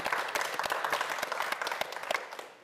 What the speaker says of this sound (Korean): 조광희 학생에게도 다시 한번 큰 박수 부탁드립니다